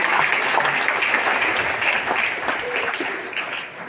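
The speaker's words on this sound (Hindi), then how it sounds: "चले हम तालियों से उनको धन्यवाद दें।" A crowd at a Ganesh Utsav gathering applauds steadily, many hands clapping in a dense, sustained wash that eases slightly toward the end, fairly loud and without speech.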